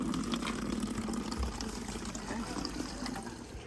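Spring water running near a trail in Zion National Park, a steady, full rushing wash that carries on unbroken and close by throughout.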